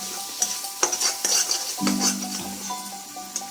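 Spices and Maggi masala being stirred and sautéed in a pan for roadside-style ghugni, with close scraping strokes, light sizzling and a few clinks of utensil against pan, then a louder burst of sizzle partway through.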